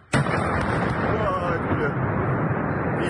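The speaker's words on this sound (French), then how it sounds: "C'est une explosion." A sudden nearby explosion bursts in sharply, then a heavy rumbling roar sustains for several seconds, loud and broad, with a voice speaking beneath it.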